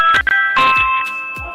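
A Ring video doorbell chime rings out in sustained, overlapping electronic tones, with a few soft thumps and brief noises mixed in at close range.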